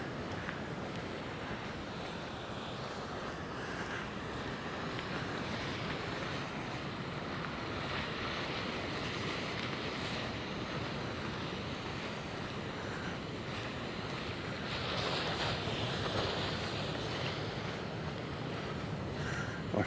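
Sea waves along the Paphos boardwalk by the shore, a steady broadband wash of surf mixed with wind rumble on the microphone, swelling louder briefly toward the end, with no voices.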